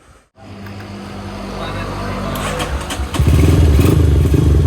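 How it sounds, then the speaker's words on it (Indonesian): A Honda CB100 motorcycle engine runs and revs, growing louder and rougher near the end, with a low throbbing idle beneath. "Kali ini kita mau test ride motor CB punya nih Mas Rio Damara ya."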